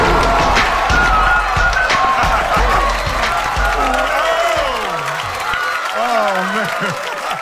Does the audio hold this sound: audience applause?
yes